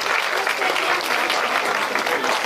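Steady crowd applause at an outdoor folk festival performance, dense continuous clapping at moderate level with faint voices mixed in.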